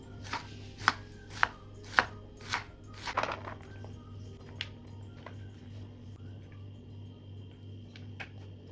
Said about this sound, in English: 2 large onions finely diced or 4 medium onions